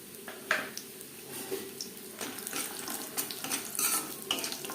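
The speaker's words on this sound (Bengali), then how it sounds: "বড়ি ভেজে নেব" Quiet frying of lentil dumplings in oil in a pan, a soft crackle with occasional stirring scrapes and light clinks, no voices.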